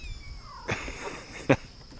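A kitten gives two brief, soft meows about a second apart, close by and faint against a quiet outdoor background.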